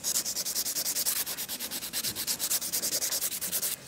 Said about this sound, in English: Now I'm buffing it just to make it smooth.